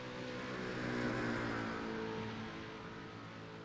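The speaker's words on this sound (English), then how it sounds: "Always so interesting hearing those BMWs make their way around." A BMW GT3 race car runs around a sports car racing circuit, its engine droning steadily at a distance with a gentle rise and fall as it passes.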